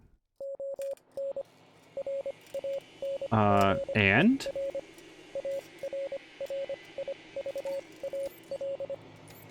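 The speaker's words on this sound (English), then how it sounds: "Hear the quiet beeping coming from the direction of the RV." Quiet, steady electronic beeps repeat in short regular bursts from an RV in the game Wasteland 3, with a brief voice and radio-like noise cutting in midway before the beeping resumes.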